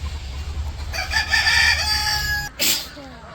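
A rooster crows once, loud and close, a long drawn-out call among village chickens in the morning, followed by a short rustle and a softer cluck.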